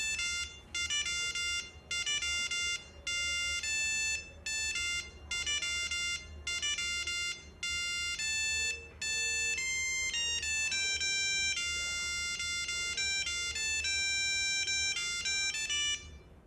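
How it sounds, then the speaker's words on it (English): A tune made with the Nokia ringtone composer plays as a loud, steady series of bright electronic beeping notes in a quick melodic rhythm, running alone with no talk. "the awesome Nokia ringtone composer, so basically you can make your favorite songs into a ringtone by pressing various keys in the composer"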